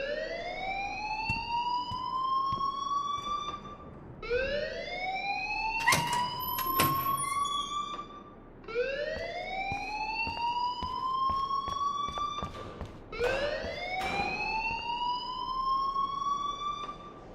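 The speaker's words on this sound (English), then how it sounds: "please turn off that alarm since that's your job" A school alarm in the video game Life is Strange wails in repeated rising sweeps, about four long cycles with short gaps, loud and insistent, joined by brief clanks and thuds.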